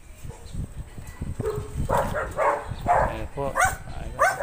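Several dogs bark and yip excitedly in short bursts nearby, while a person speaks briefly at the start.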